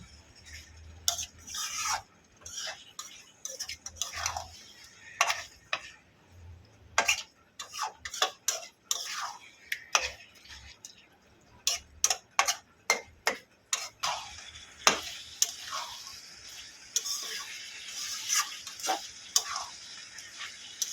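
Beef cooked with potatoes is stirred and sautéed in a pot, giving a long run of close, irregular spoon clinks and scrapes against the metal, some sharp and some soft, over a faint background.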